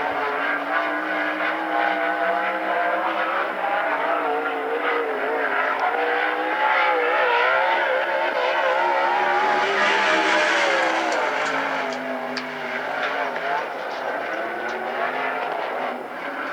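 A sprint car on a Western Sprint Tour qualifying lap at the Central Washington State Fair roars loudly and continuously, its engine note rising and falling as it circles the track, with no pause.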